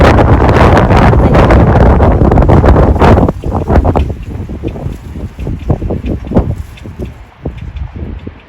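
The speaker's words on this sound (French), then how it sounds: "Oh là là, il y a des vents de fou." Strong wind buffets the microphone in a loud, roaring rush, then eases into gusty bursts and rustling for the rest of the clip.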